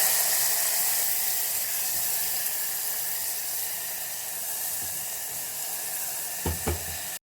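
Spice paste fries in hot oil for Bengali kalai (lentil) dal, a steady close hiss and sizzle that holds evenly throughout, with a couple of soft clunks near the end and no voices.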